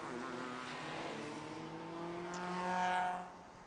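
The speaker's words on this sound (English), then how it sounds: "cars are already on their warm-up lap." Race cars on the warm-up lap of the Nankang 2-hour endurance race at the DeWALT Grand Prix, engine drone heard from a distance and swelling briefly as a car passes, then fading.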